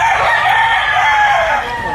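A rooster at a chicken market in Lipa, Batangas gives one long, loud crow close by, sustained and unbroken.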